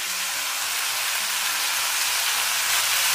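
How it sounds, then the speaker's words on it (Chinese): Eggplant stir-fried in a hot wok with soy sauce and oyster sauce over high heat makes a loud, steady, broadband sizzle and hiss that runs unbroken, with faint scraping underneath. "然后开大火给它翻炒均匀"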